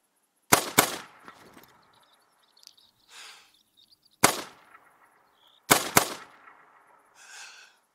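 Rifle shots ring out in a hunting video game, three sharp, loud reports each quickly followed by an echo, spaced a few seconds apart, with quiet reloading and handling sounds between them.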